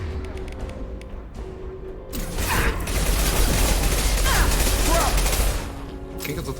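Rapid gunfire bursts and mechanical weapon clatter from a Mass Effect 2 battle swell into a dense, loud firefight lasting several seconds.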